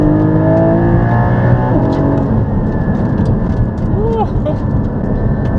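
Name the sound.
Porsche 718 Cayman GT4 engine revving to 8,000 RPM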